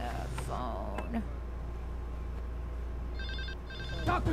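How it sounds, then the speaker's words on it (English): A telephone rings in a television show, two short bursts of electronic trilling that sound faintly under a steady low hum and background voices. "Phone."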